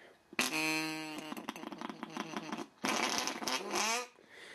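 A dollar-store novelty fart toy is blown by mouth and gives a loud honking, buzzing blat. Two long rasping bursts come up close, with a brief gap between them.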